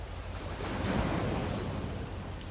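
Sea waves wash in steadily along the shore at Kuala Sungai Baru in Melaka on an early morning, a broad rolling surf hiss mixed with wind buffeting the microphone, with no voices.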